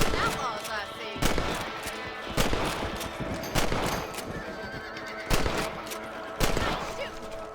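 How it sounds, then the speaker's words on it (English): Gunshots in the Red Dead Redemption video game while hunting rabbits on horseback, several loud sharp reports spaced a second or so apart over a horse's whinnies and hoofbeats. "You're better at shooting rabbits than outlaws, I see."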